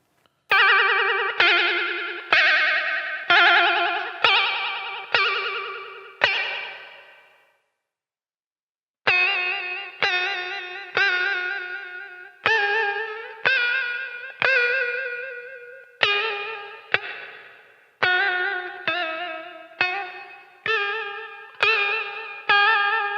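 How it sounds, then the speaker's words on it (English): Electric guitar notes and chords through a Chase Bliss Warped Vinyl HiFi pedal ring out one after another, each with a wobbling, warbling pitch like a warped old record, pausing briefly before continuing. "That really achieves the effect of how the old vinyl records sounded."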